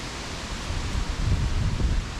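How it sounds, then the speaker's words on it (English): Gusty wind in the aftermath of Hurricane Ian near Beaver Dam Creek, a broad steady rush outdoors that swells louder in the second half, with no voices. "the wind is a little rowdy"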